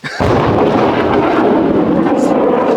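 Thunder from lightning over a mango farm in Thiruvallur rolls as one loud, sustained, broad rumble that starts abruptly and stays strong throughout.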